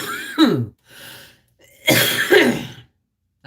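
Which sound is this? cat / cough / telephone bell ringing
cough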